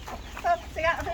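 Bangkok chickens cluck in a coop, short close clucks and squawks over a rumbling background, with people talking nearby.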